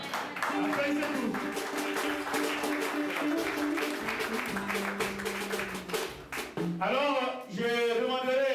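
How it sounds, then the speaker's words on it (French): Congregation applauding after an Easter church theatre play, the clapping mixed with voices and tonal sounds that could be singing or music, with a sharper burst of activity near the end. "Applaudissez-vous."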